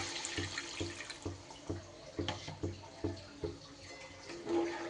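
Water is poured into frying masala for a green jackfruit kofta curry, giving a close, wet splashing and sizzling with a quick, pulsing rhythm that swells near the end.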